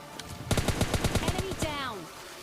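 Gunfire in the mobile shooter PUBG Lite comes as a rapid burst of about a dozen sharp automatic shots, close and loud, with a voice speaking briefly alongside.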